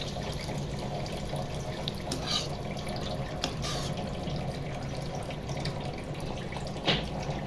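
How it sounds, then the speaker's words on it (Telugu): Water poured into a cooking pan of raw prawn and gongura curry, heard as a steady running splash and trickle with a few brighter drips and spatters, close and continuous throughout. "అక్కడ కొంచెం వాటర్ పోసుకోవాలి"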